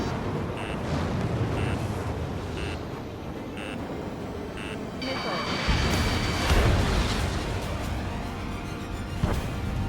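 Carpet bombing in Ace Combat 7: Skies Unknown as bombers strike an island, heavy rumbling blasts swelling under periodic beeping tones and radio voices, then a louder stretch of explosive roar and crackle near the end.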